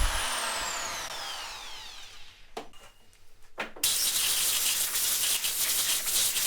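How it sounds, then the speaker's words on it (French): A wire brush scrubs the welding areas of a degreased Honda 500 CR motorcycle crankcase, a loud, steady abrasive rasp that fills the whole stretch, broken briefly in the middle by a quieter pause with a few sharp knocks. "le carter est brossé dans les zones à souder."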